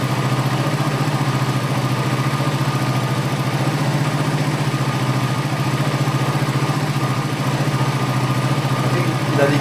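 Suzuki GSX-R150 motorcycle engine idling steadily near 1900 rpm during throttle body servicing, a close, even low throb running unbroken throughout with no change in pitch.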